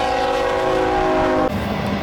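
Freight train led by GEVO locomotives on the Fort Worth Sub, its horn blaring loud and close in a sustained chord that cuts off abruptly, followed by the steady rumble of the passing train.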